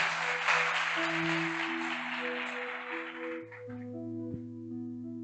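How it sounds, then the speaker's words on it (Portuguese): A church congregation claps loudly in a dense burst of applause that fades out after about three seconds, while sustained organ or keyboard chords continue and carry on alone afterward. "Vamos aplaudir a palavra de Deus bem forte para a palavra de Deus."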